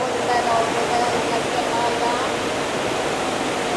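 Loud water jets pour steadily in a cruise ship spa aboard the MSC World America, a dense, continuous rushing roar like a waterfall filling the space, with faint talk beneath.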